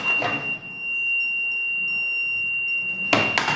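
A multimeter sounds its continuity test beep: one steady, fairly loud electronic tone that holds for about three seconds, with brief handling noise at the start and end.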